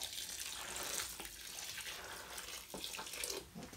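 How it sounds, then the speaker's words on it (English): Hot water pours steadily into a container of soil in an indoor greenhouse, a continuous hissing, splashing stream with small gurgles, close and moderately loud throughout. "we're going to add some hot water in there to kill some germs and bugs that might be in there"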